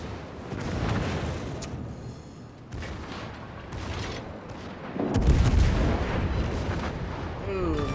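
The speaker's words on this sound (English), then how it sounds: "Nuremberg shooting AP now since there's a fire." Heavy naval gunfire from the cruiser Nuremberg loosing armor-piercing shells in a naval combat game, deep booming salvos rolling over a dense battle din, with a louder blast near the end and a voice talking over it.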